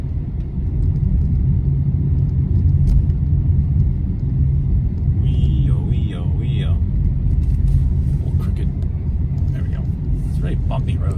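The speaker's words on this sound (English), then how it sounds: "Very bumpy road. It's very bumpy, Nick." A car rumbles and jolts along a very bumpy countryside road in Japan between a vineyard and a river, a loud continuous low rumble with rattles, while people talk over it.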